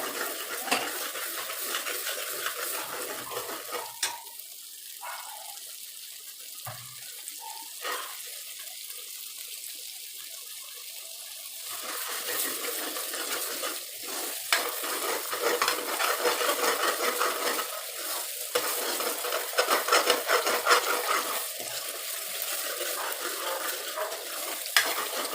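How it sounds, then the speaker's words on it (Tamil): Ground onion, garlic and ginger paste with cashews, almonds and green chillies sautés in hot oil for a ridge gourd egg gravy, a steady close sizzle broken by spoon scrapes and stirring clatter against the pan. "வெங்காயம், வெள்ளை பூண்டு, இஞ்சிலாம் நல்லா உங்களுக்கு வதங்கிடுச்சு."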